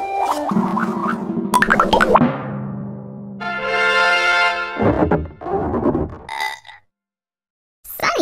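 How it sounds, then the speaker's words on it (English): A series of exaggerated burp sounds, long and croaking with rising tones, separated by short gaps and a pause of silence near the end. "You burp when air in your stomach comes out of your mouth and makes a noise."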